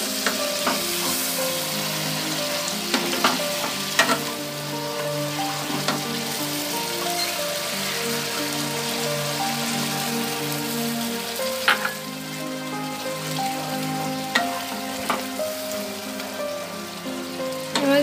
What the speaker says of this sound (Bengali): ঝোলটা ফুটে গেছে দেখতে পাচ্ছেন।